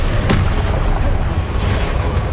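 A Confringo fire spell bursts in the video game Hogwarts Legacy, a loud, close blast with a sharp crack near the start that rolls into a dense, sustained rumble of magical explosion and combat noise.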